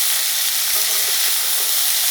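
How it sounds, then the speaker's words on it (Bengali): Flowers and potatoes fry together in a pan, giving a loud, close, continuous sizzling hiss with no pauses. "এটা হচ্ছে গিয়ে যুক্তি ফুল ভাজা। যুক্তি ফুল আছে আর এখানে আলু আছে,"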